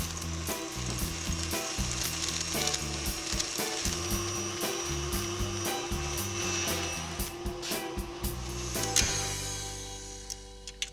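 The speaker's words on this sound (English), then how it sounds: "with the mixer on a lower speed, I'll just add it in. Let the mixer do all the work for you." Electric mixer whirring at low speed through cake batter for a baked Alaska, a steady mechanical hum with a rhythmic clicking, rattling texture, close and moderately quiet, no talking.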